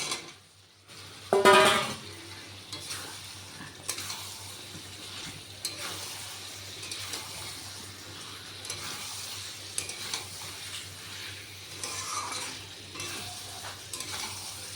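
Potatoes cook in fried spice masala with green chilli paste for aloo dum, a moderate steady sizzle in a pan broken by repeated stirring scrapes and a bright metallic clatter near the start.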